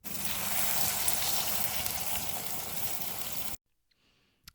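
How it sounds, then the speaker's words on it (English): Shallots sizzle hard in a hot pan as beer is poured in to deglaze, a loud, steady crackling hiss for about three and a half seconds that cuts off abruptly, leaving near silence with a faint trace. "you get to fucking deglaze that shit with the beer"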